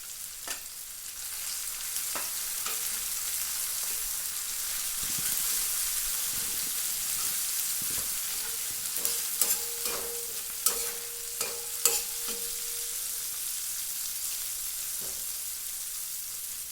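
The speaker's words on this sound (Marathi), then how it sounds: "आता टाकू ह्या हिरव्या मिरच्याचा ठेचा." Green chili paste sizzling in hot oil with cumin seeds, a steady hiss that runs throughout, with clicks and scrapes of stirring rising in the middle.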